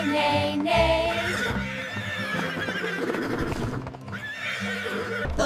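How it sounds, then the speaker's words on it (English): Horses on a farm give several loud, shrill neighs and whinnies, with clip-clopping hooves running between the calls. "The horses on the bus go neigh, neigh, neigh."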